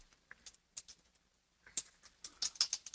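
Fingers tap out a username on a computer keyboard during a site login, giving soft, irregular clicks that start sparse and grow into a quicker burst of keystrokes, close and fairly quiet with no speech.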